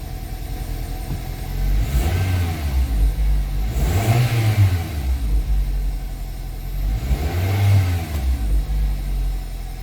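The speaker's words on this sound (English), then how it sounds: "it's running smooth now" A 2002 Toyota Corolla engine, running smoothly after repair, idles and revs up and down three times in a steady rhythm, loud and close, with no voices.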